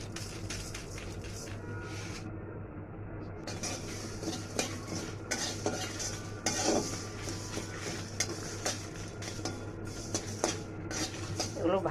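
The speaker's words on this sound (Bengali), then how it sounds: "খোলায় ভেজে নেব মরিচ, ধনিয়া" Dried chilies, coriander seeds and cumin are dry-roasted in a pan, with a utensil scraping and clattering against the metal in repeated close strokes over a faint background hiss.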